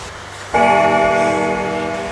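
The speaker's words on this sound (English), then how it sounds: "Gong that bell so you get notified the next time we put out a new video." A notification bell rings once with a bright, sustained metallic tone that starts sharply and slowly fades, heard alone and fairly loud.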